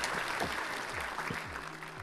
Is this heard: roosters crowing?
no